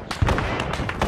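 A frag grenade goes off in a military game, a loud burst with a dense, rumbling blast that fills the short moment, the impact thump standing out early on.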